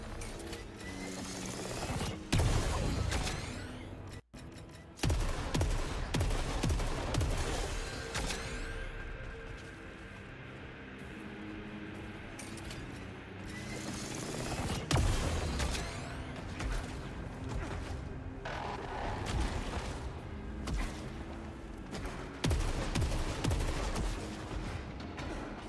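Hand cannon fire in the video game Saros, heavy repeated shots and bursts of gunfire across a loud, busy combat mix, with no talking.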